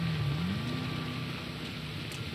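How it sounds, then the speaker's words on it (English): Steady rain falls in GTA 5, a dense even hiss with a low engine-like drone running underneath throughout. "I gotta walk out in the freaking rain"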